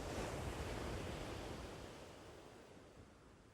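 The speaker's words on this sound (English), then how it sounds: "the most beautiful rolling rhythms of those gentle ocean waves way out there" Gentle ocean waves roll and wash in a steady, soft surf rumble with faint wind, slowly easing in loudness as the swell recedes.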